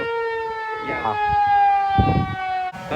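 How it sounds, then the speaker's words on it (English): A firehouse alarm siren wails in long sustained harmonic tones, loud and steady across the whole stretch, with a brief shift near the end and faint background murmur beneath it. "just trying to enjoy the sirens"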